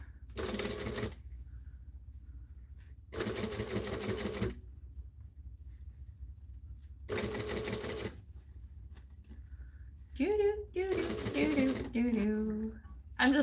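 A sewing machine stitches fabric without clips in four short, rapid bursts separated by pauses, close and clear, with a brief rustle of handling between runs.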